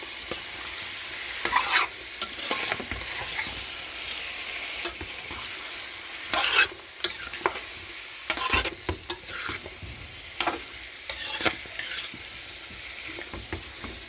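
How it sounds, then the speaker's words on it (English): Metal spoon scraping and clanking against a metal pot while stirring stew chicken, close and fairly loud, over a soft background sizzle, with no talking. "Sorry about the noise from the spoon."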